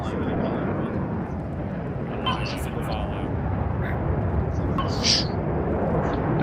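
A CH-53 helicopter at a heliborne assault exercise gives a continuous loud rumbling roar from close by. Faint radio chatter and calls sit under the engine noise.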